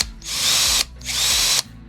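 A cordless variable-speed power drill whirs in two bursts of just under a second each, spinning up and stopping sharply, close and loud with brief pauses between.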